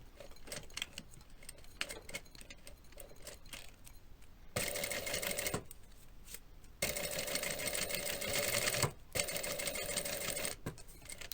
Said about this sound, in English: I started on the previous stitch to secure it and continued to top stitch a rectangle around the pocket.